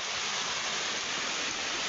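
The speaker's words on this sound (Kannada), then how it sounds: "ಅಬ್ಬೋ ನೋಡಿ ಅಗ್ನಾಶಿ ನದಿ ನೀರು ಇಲ್ಲಿ ತನಕ ಬಂದಿದೆ" Steady broadband rush of the flooded Aghanashini river in the rainy Malnad region, water flowing fast and continuously at an even loudness with no talk.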